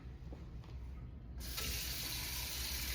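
Water from a kitchen tap suddenly gushes into a sink as a sharp knife is washed, a steady loud rush that follows a quieter moment of faint handling clicks.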